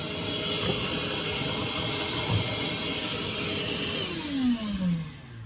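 A shop vacuum pulls dirt from a Husky floor liner in a Toyota Tundra, a steady loud whooshing roar that holds throughout and shifts pitch downward near the end as the nozzle moves.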